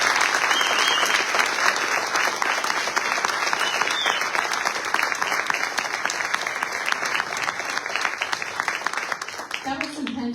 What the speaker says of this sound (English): So everybody join me in a round of applause.